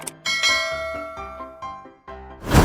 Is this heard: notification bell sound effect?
yes